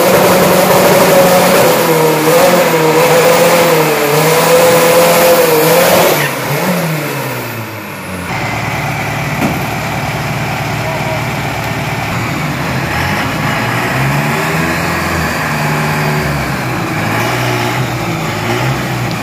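An Isuzu F55 Pro pickup with a turbo charges down a 402 m drag test run. The engine revs hard and loud, drops briefly at a gear change, then pulls steadily again. No voices are heard.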